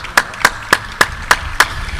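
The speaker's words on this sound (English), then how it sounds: "You got to give yourself another round of applause." Graduating seniors at a school graduation ceremony clap for themselves: six crisp, distinct claps in an even rhythm, close and loud with quiet gaps between them.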